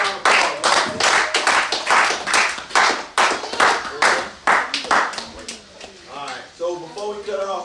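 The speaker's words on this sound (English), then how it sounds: "Give him a round of applause." A small group at a Bible lesson clapping, sharp separate claps in uneven bursts close to the microphone, with voices speaking over and between them and a short vocal tone toward the end.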